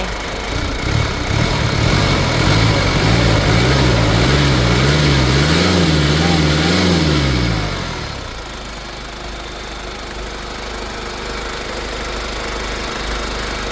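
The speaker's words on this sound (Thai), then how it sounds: "ฟังเครื่องครับ แค่นเครื่องมีโยกมีสั่นไหม" A Ford Ranger pickup's 2.5-litre turbo diesel engine idles steadily and close by with a low rumbling knock, then the pitch drops and the running becomes quieter and smoother.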